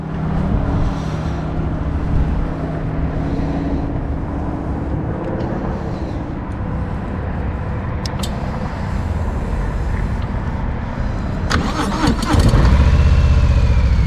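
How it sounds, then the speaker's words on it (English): A Harley-Davidson Milwaukee-Eight 107 motorcycle engine rumbles with a deep, steady exhaust tone, fairly loud and near, then surges into a sharp revving burst near the end. "The exhaust isn't loud, but it is pleasant, with a deep, rich tone."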